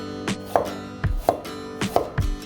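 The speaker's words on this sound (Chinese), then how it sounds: "我们再来切些姜片" A knife slicing ginger on a cutting board for braised pork belly: three quick rounds of crisp chopping taps in a steady rhythm, close and clear, with no talking.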